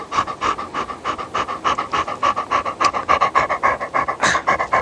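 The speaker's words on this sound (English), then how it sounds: "If you hear her breathing, I apologize. My perpetually hot dog." A dog pants steadily and rhythmically close by, quick regular breaths repeating throughout with no talking.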